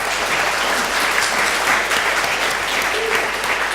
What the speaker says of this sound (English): If you'd like to join me in giving them a round of applause.